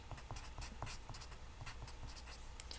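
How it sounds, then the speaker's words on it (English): A pen scratches out math notes in short, steady strokes, close and continuous over a low background hum, with no talking. "All right, let me write this over here."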